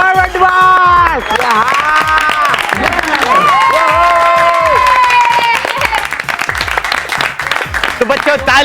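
A school audience in a children's superhero TV show applauds and cheers for a student. The crowd noise is loud and continuous throughout, with voices and tonal music layered over it.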